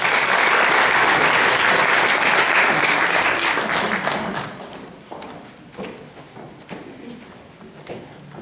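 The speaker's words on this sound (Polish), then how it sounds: "Zapraszamy i prosimy o gorące brawa." An audience at a presentation on a Kazimierz Wielki document bursts into loud, dense applause that holds for about four seconds, then thins to scattered claps.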